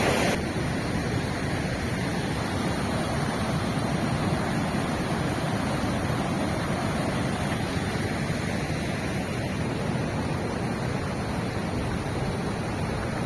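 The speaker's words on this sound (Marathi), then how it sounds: "एका बाजूला हा ओढा वाहतोय" Steady broadband rush of a meltwater stream flowing beside the road in Turtuk village, Ladakh, continuous and fairly loud throughout with no other sounds.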